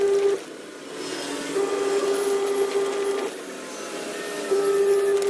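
A household washing machine runs steadily indoors at home with a load of clothes, giving a continuous mechanical hum with a sustained tonal whine that drops away briefly and returns, fairly close and with no talk.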